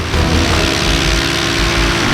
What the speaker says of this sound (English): Don't die yet, engine, don't die yet.